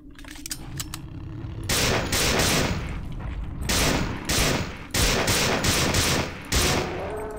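Gunfire in the 1999 video game System Shock 2, several loud sustained bursts of automatic shots separated by short pauses, close and dominant.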